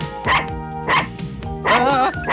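A cartoon dog in an animated TV series barks three times in spaced bursts, close and fairly loud, with a higher whiny yelp at the end and voices faintly beneath.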